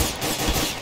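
Rapid gunfire during a tense police-versus-robbers heist in DarkRP, a dense continuous burst of shots filling the short moment with no talk over it.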